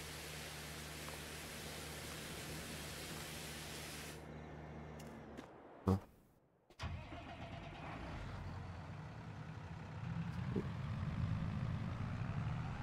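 A vehicle pulling a trailer in Farming Simulator 22 produces a steady, droning engine rumble, briefly cut off mid-way by a short clunk and gap before the hum returns and swells slightly.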